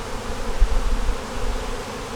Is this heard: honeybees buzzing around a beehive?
yes